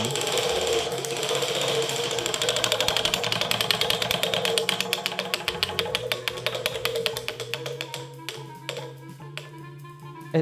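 A prize wheel spins with rapid ratcheting clicks that slow gradually as it loses speed, loud and close, ending in a few sparse ticks as it settles.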